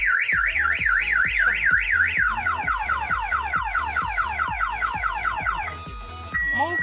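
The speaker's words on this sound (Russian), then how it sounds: "Мы сидим в машине, наша машина сигнализирует." A parked car's alarm blares nearby while people sit inside, cycling rapidly through rising and falling siren tones, then switching to steady chirps and a held tone near the end.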